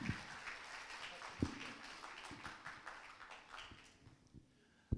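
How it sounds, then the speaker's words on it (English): Scattered applause from a seminar audience at a nutrition day event after a presentation, a light patter of clapping with a few sharp claps, fairly faint and thinning out toward the end. "give a big applause to Professor Anand Nepal"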